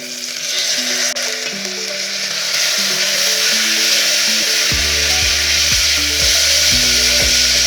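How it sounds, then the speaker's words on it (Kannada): Pigeon peas frying in a pan with onions, a steady loud sizzle throughout, with utensil clicks and a faint tonal hum running beneath it. "ತೊಗರಿ ಕಾಳು ಒಂದು 5 ನಿಮಿಷ ಫ್ರೈ ಆಗಲಿ."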